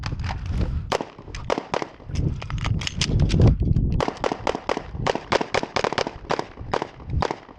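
Pistol fire on a shooting range, a fast string of sharp close shots emptying a magazine, a brief pause for one reload, then another rapid burst of shots.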